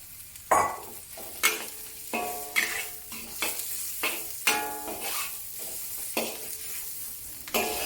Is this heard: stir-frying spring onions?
yes